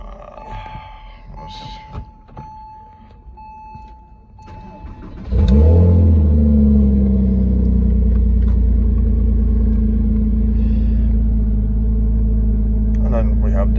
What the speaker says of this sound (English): The exhaust, usually we have three ways to do it. One is quiet, the other one is medium, and the other one is super loud.